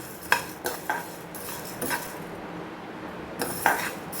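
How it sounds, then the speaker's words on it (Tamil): Whole spices for kulambu chili powder being dry-roasted in a pan, with light scraping and stirring, small clinks of a spoon against metal and faint rustling of seeds, heard close in a few intermittent strokes. "இதையும் வந்து ஒரு ஃபோர் டு ஃபைவ் மினிட்ஸ் வறுத்துக்கலாம்"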